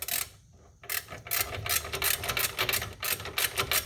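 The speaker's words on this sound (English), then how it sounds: "I'll tighten the top one a little bit, and then I'll go to the bottom one, tighten that one a little bit" A ratchet tightens brake caliper bolts on a 2001 Buick Regal GS, giving rapid, close clicking bursts in short runs with brief pauses between them.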